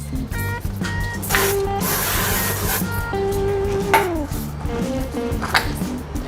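Cooking spray hissing onto a pressure cooker pot before brisket goes in to brown, a steady close burst lasting a couple of seconds amid kitchen clatter and faint tonal beeps.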